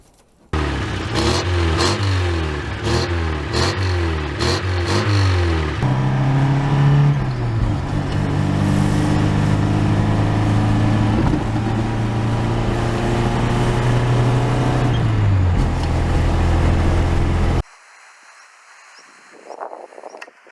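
A 1974 Russian-made Lada 21011, a Fiat 124 derivative, revs hard in a series of quick throttle blips, then holds a long steady engine drone before cutting off abruptly into near silence.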